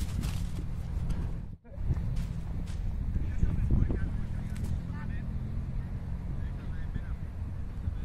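Wind blowing outdoors in gusts rumbles steadily against the microphone, a loud low roar that briefly cuts out once near the start, with scattered faint sounds in the background.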